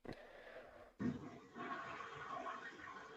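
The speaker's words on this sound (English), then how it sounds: "You can hear his toilet flushing." A toilet flushes in another room of a hollow-sounding house: a sharp thunk, then a muffled roaring rush of water that holds steady at moderate, slightly distant loudness.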